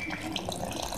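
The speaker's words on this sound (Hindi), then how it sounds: "इसके अंदर हम पानी ऐड करेंगे थोड़ा थोड़ा करके।" Water is added little by little to a gulgule batter, a brief soft splashing and trickling of liquid into the mixing bowl, close by and without talk.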